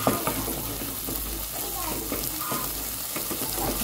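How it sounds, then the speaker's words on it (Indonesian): Scrambled eggs stirred quickly in a frying pan with half an egg, sizzling and scraping in a continuous busy clatter, close and fairly loud, with a faint murmur of talk underneath. "Nah, ini harus diaduk cepat."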